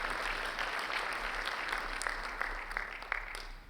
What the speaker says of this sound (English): let's give a round of applause to Lillian for going through that